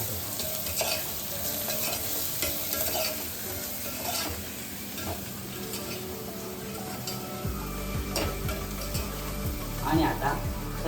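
Sprouted chickpeas sizzling and being stirred in a pan while cooking khichadi, a steady close fry with scraping strokes throughout and a low hum entering near the end.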